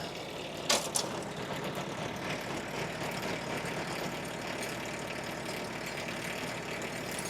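A tractor engine runs steadily while its Uniforest 45m winch pulls a log through the woods toward a landing. The drone is constant and close, with a couple of sharp knocks near the start and no voices.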